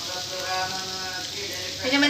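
Karela (bitter gourd), salted and chopped, roasting in a pan for pickle, giving a steady soft sizzle with faint stirring scrapes, close by and continuous, rising slightly at the end.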